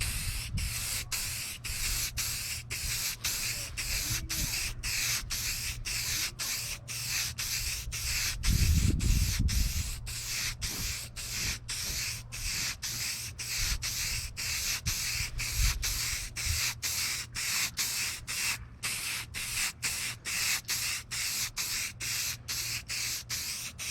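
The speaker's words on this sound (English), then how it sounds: "we're gonna go ahead and lay the gloss clear sealer on this section only" Colorshot gloss clear sealer sprayed from an aerosol can in steady, close hissing passes, broken by brief gaps between sprays, with a short low thump partway through and no speech.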